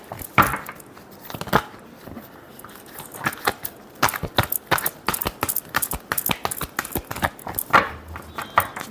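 Tarot cards being shuffled produce a long run of quick, crisp riffling and slapping snaps, sparse at first and then dense and steady, close by with no voices.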